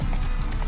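Roach, the horse in the video game The Witcher 3, gallops in a brisk, steady clip-clop of hooves, loud and close, with no voice over it.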